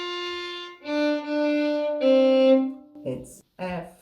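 Bowed violin playing slow sustained notes of Auld Lang Syne, each held tone clear and close with rich harmonics, a short pause before a final quicker phrase.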